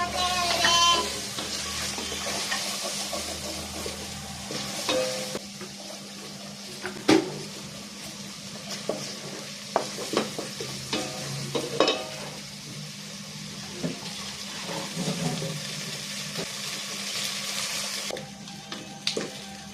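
Spice masala with salt and chili powder being stir-fried in a pan, a steady sizzle with scraping spatula strokes and occasional clinks of utensil on metal, close and continuous throughout.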